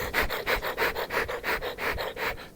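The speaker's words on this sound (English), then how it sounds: "that is the sound of the squirrel in the rafters" Rhythmic scratching and rasping from a squirrel in garage rafters, about ten quick repeated strokes in steady succession, like small claws scraping on wood, fairly faint.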